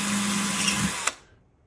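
Handheld power drill boring through pins for needle minders, one hand pushing while the other steadies the tool: a steady close whine for about a second that cuts off abruptly and then spins down to quiet.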